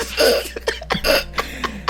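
A person's own cough heard close and fairly loud, a few rough, throaty bursts over about two seconds with no talk around them.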